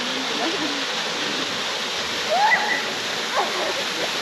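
A steady rushing waterfall and creek at Millstream National Park fill the scene with constant broadband water noise, with faint distant voices or bird calls briefly rising above the flow.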